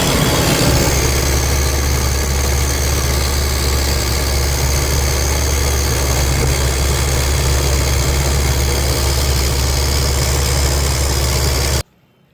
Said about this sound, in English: It's got a junk carburetor and why it's idling so high.